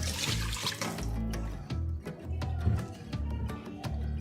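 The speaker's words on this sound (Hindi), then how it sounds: "अब एक पैन में हम दूध डालेंगे" Milk pours into a pan for carrot halwa, making a continuous close splashing trickle for about four seconds with slight gurgling variations and no voices.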